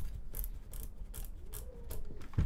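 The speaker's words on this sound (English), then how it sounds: "Now align the joystick back on the base and screw it in." Rapid ratcheting clicks from a joystick being screwed back onto its plastic base, repeating in a close, steady rhythm.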